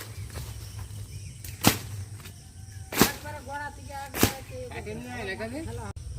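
Three sharp swishing slashes strike through undergrowth at a steady pace while a village road is being cleared, each a close whipping cut, with people talking in between and a low background hum.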